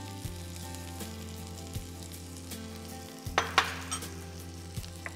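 About five sliced small onions sautéing in a pan, an even sizzle under a low humming background, with a few stirring scrapes and a brief louder burst of crackling midway.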